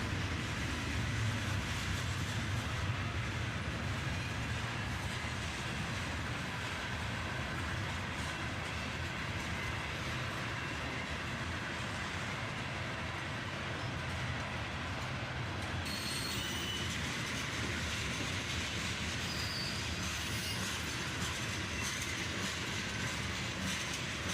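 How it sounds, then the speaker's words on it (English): Two CSX freight trains roll steadily past each other up close, wheels clacking over rail joints, with a noisy change in the rush partway through as the second train passes. "It's always cool to see 2 trains pass each other like this."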